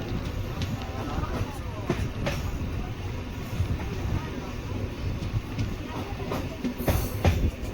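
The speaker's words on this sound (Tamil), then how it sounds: "பன்னெண்டு கோச்சஸ் கொண்ட மெமு ட்ரெயின்ங்க இது" A twelve-coach MEMU electric multiple unit train running on the main line, a steady rumbling roar with faint rhythmic wheel clicks and occasional sharp rattles, heard from on board, with a voice speaking over it.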